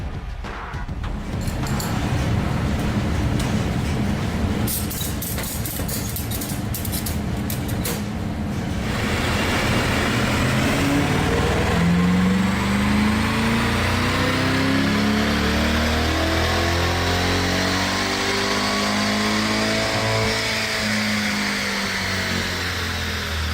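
A C8 Corvette with a Magnuson stage 1 package on the dyno for a baseline pull: a loud engine idling and blipping, then revving steadily up through the gears with a rising whine, close and continuous.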